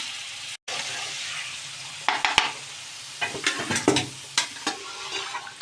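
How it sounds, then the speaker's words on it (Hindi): Boiled white chickpeas being stirred into masala in a pan, a steady sizzle under scattered spoon scrapes and clinks that pick up in the second half, close and moderately loud with no voices. "सारे मैंने इसमें ऐड कर दिए हैं और इसको अच्छे से मिक्स करूँगी"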